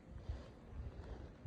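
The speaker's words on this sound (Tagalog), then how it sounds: "Kasi lakas ng hangin." Strong wind after a snow blizzard roars in a steady low rumble, buffeting the microphone with gusty swells and no voices.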